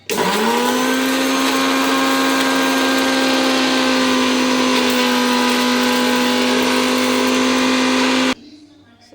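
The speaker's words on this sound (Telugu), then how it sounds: "ఇంత షుగర్ యాడ్ చేసుకొని దీన్ని మిక్స్ చేసేసుకుంటే చక్కగా యాలకులు కూడా పౌడర్ అయిపోతాయి" Mixer grinder powders sugar with cardamom in a kitchen, a loud, steady motor whine that spins up quickly and holds a constant pitch for about eight seconds before switching off.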